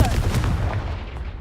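A Confringo blasting curse in a Harry Potter video game, a sharp loud explosive boom at the start followed by a rumbling decaying tail with a few fainter crackling bursts.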